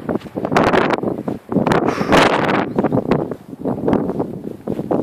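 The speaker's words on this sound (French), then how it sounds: "quand on vient ici, il y a trop de vent" Gusty wind near a beach buffets the microphone in loud, irregular bursts of rumbling noise.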